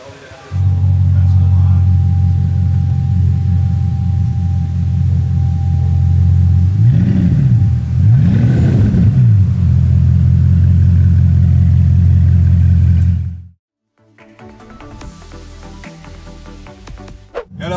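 A Bugatti Chiron's deep engine rumble holds steady, then revs up and down twice mid-clip before cutting out abruptly, followed by quieter mixed sounds.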